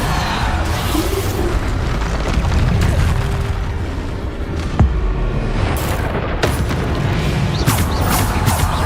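Spell explosions from the Hogwarts Legacy video game boom and crash loudly amid dense in-game noise, with a few sharp impacts standing out over a constant rumbling background.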